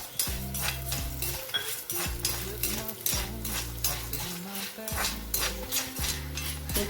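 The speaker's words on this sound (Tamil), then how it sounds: "காஞ்ச மிளகா போட்டுக்கலாம் இது கூடவே உளுத்தம்பருப்பு போட்டுக்கலாம் பட்டு கொஞ்சம் செவக்கணும் நல்லா" Dried red chillies and urad dal fry in a hot pan over a soft sizzle, while a metal spoon scrapes and clinks against the pan in a repeated stirring rhythm.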